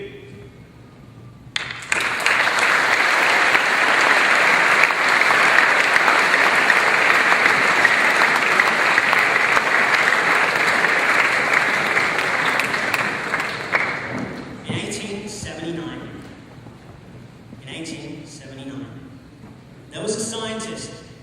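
A school audience gives a long, loud round of applause at a high school dux speech, clapping steadily for about twelve seconds before fading, after which a voice speaks in short bursts.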